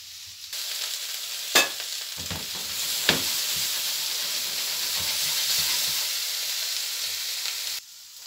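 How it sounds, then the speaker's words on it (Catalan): Onion fries quickly in hot oil in a pan, a loud, continuous hissing sizzle broken by a couple of sharp clinks of utensil on metal, ending abruptly. "el que pretenem és donar-li un cop de foc així ràpid, perquè la ceba ens quedi així com una mica al dente"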